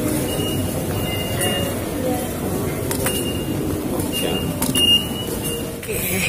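Steady low rumble of a moving train interior in Japan, with occasional faint squeals and clicks, constant throughout while a voice talks over it.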